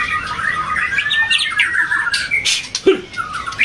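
Murai magpie-robins from Medan, forest-caught and captive-bred, sing in a loud, busy stream of squawks, chirps and whistled phrases, with several birds overlapping close by and one sharp call standing out near the end.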